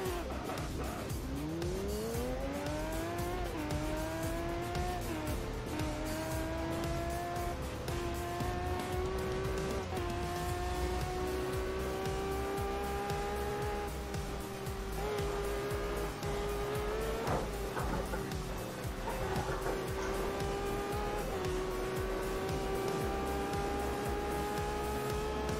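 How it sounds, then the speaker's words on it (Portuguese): In the Test Drive Unlimited video game, a Lamborghini skids with long, loud tire squeals over a rising, roaring engine that goes on without a break, and there is no talking. "Meu Deus, cara, essa Lamborghini aqui tá derrapando pra caramba."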